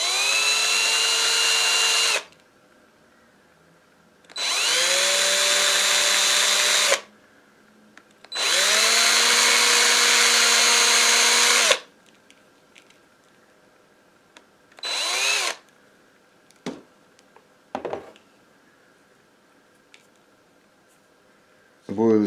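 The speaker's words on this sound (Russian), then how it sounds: "Я сверлю отверстие здесь вот на 2 миллиметра аккуратно," A small electric drill bores a 2 mm hole through a fishing boilie in three long steady whining bursts, then a few short buzzes and clicks, close and loud with no talk.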